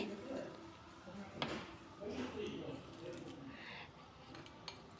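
Soft scraping and clinking as mango pickle pieces are mixed with turmeric powder in a bowl, a few sharper taps against the rim, under a woman's continuous speech.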